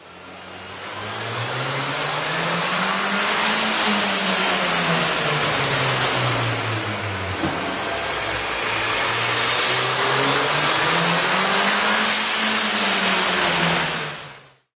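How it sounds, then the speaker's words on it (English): A car engine fitted with a K&N 63-2587 cold air intake drones loudly and steadily, with a constant intake roar and slow rises and dips in pitch as it revs, then cuts off. "You can really see and hear the difference the K&N air intake system will make to your car."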